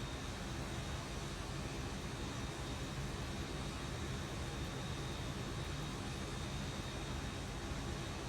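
Boeing 737-800 (ZIBO) taxiing in X-Plane 12 at LaGuardia, a steady broadband engine roar and hiss, constant and fairly loud, with no other sounds.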